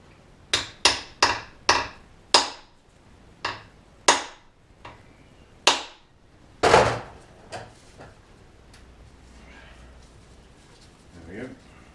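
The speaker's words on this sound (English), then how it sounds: "So we can use the real hammer" A metal hammer striking a Suzuki GT550 motorcycle part in a workshop: about a dozen sharp, ringing blows at an irregular pace, close and loud, fading to a few lighter taps, with quiet background noise.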